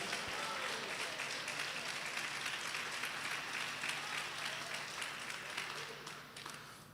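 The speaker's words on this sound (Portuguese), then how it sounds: "Dá uma salva de palmas, dá um glória para Jesus." Church congregation applauding during a worship service, a steady wash of clapping held at moderate level for several seconds before tapering slightly at the end.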